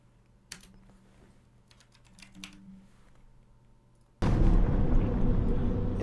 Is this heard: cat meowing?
no